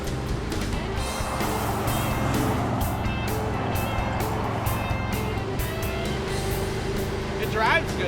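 A junkyard Chevy Tri-Five rolls down the road, heard from the cabin as a steady, close rumble of engine and tires that holds level with no break.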